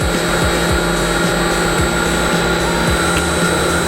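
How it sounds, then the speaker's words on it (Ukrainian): A Carmec SG 1400 grinding machine for cylinder heads running at speed 1024, giving a loud, constant whirring motor drone with rhythmic low pulses repeating about every half second. "розігнали станок. Швидкість 1024."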